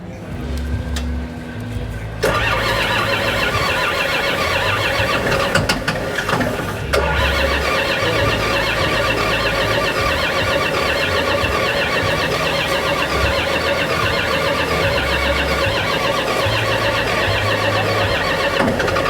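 A farm equipment engine cranks on sprayed ether and catches, then settles into a steady rough idle that runs on loudly, with faint voices in the background at the Farm Progress Show.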